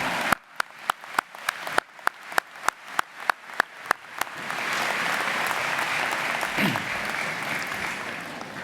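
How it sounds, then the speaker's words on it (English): An audience at a university convocation ceremony in Winnipeg begins with about a dozen separate, spaced claps that quickly swell into sustained, full applause filling the hall. "It's okay to clap."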